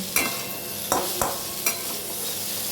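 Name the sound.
stirring bitter gourd and pumpkin bori in a pan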